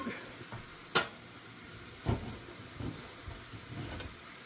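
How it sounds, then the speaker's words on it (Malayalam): Mustard seeds pop and splutter in hot olive oil during tempering, a few sharp crackles over a low steady sizzle close by, with occasional stirring. "ഒരു ഒലിവോയിലാണ് കടുവ് ഇറക്കുന്നത്"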